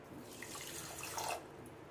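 Half a bowl of water is poured into a pan to make sugar syrup for a dry-fruit sweet. It gives a short, soft, steady splashing pour that is faint and close, with no voices.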